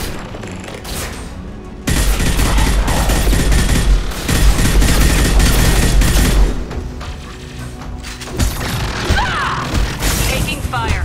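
Mass Effect 2 combat gunfire rattles in heavy bursts with booming impacts and crashing debris, loud and dense, broken by brief quieter stretches and faint voice chatter in the mix.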